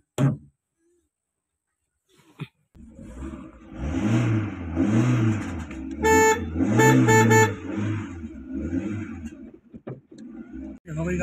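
A car with a punctured tyre starts up after a brief click and settles into a close, steady engine run with some revving that rises and falls, with faint voices and birdlike cooing in the background.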